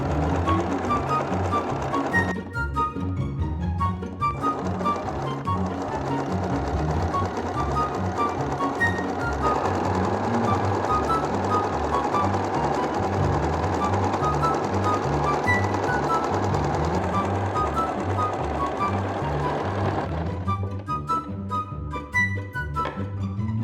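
Sewing machine stitching the armhole seam of a T-shirt, running continuously and loud with a steady rhythmic mechanical whir, briefly pausing near the start and again toward the end.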